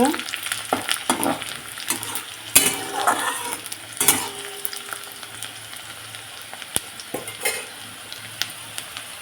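Chopped onions fry loudly in a pan for a mutton dish while a spatula scrapes and knocks against the metal in irregular strokes over a constant sizzling hiss, with a couple of sharp clinks; nobody speaks.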